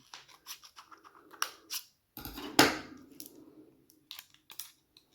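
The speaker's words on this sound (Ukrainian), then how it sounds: "Я так обережно ножицями відріжу." Scissors cutting through a laptop battery's plastic frame, a sequence of faint, close snips and crunches with one louder crack in the middle.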